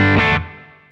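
An electric guitar chord rings through a Nobels ODR Mini 2 overdrive pedal turned up full, loud and distorted at the attack, then decaying quickly into a fading sustain.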